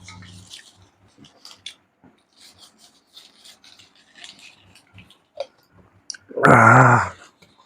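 Someone eats a raw green chili: soft crunchy bites and wet chewing come in sparse clicks, then a loud, close, drawn-out vocalized sound near the end, with no clear words.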